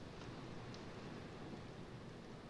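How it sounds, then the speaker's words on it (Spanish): Steady, faint rain in the game Layers of Fear 2, an even wash of soft patter with no voices and no distinct drops. "Y quiero ver si se ve la lluvia"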